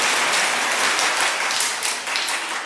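Church congregation cheering and applauding, a dense, steady wash of clapping and shouts filling the room, loud and continuous without a break.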